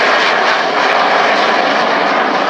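A fixed-wing aircraft at the RAF Cosford airshow roars loudly and steadily overhead, its engine noise filling the whole stretch with a dense, continuous drone and no voices.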